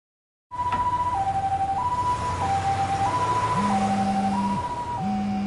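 An ambulance siren in the video game Lost Judgment wails in a loud, close two-tone pattern, alternating steadily between high and low pitches after starting abruptly, with an engine rumble beneath.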